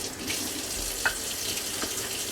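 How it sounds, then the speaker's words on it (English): Beef chuck riblets are rinsed under a running kitchen tap, a steady close rush of water splashing into the sink with one brief clink partway through. "I'm just going to rinse them off just a little bit."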